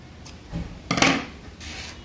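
Scissors cut thread for a hanging lamp decoration, giving two quick close snipping rasps, the second louder, in an otherwise quiet room.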